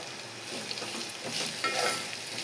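Ingredients sizzle in hot oil in a pan for a ridge gourd peel chutney, a dense continuous frying hiss with soft scraping as they are stirred, close and steady with no talking.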